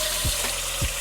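A kitchen tap runs steadily into a pot, filling it with water for pasta, a continuous close hiss with a couple of low thumps and no speech.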